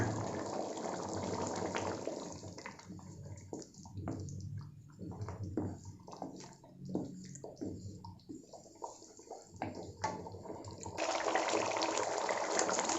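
Yogurt poured into bubbling kadai paneer gravy in a kadai, a soft wet sizzle and splashing pour heard up close, steady and moderately loud over the hiss of the boiling sauce.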